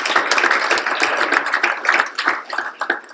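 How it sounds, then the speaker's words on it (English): Close, loud clapping from an audience at an industry awards event, a dense burst of overlapping hand claps that thins slightly toward the end. "can we just give them a round of applause for"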